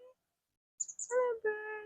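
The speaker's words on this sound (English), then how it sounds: "I hear those birdies. Oh, there's a little bird." Small birds chirp in a forest with a few high, thin tweets, followed by a person's voice talking nearby; the bird calls are brief and faint.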